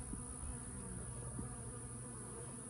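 Honeybees from a newly hived swarm fly in carrying pollen, their close, steady buzzing droning softly and continuously at low volume.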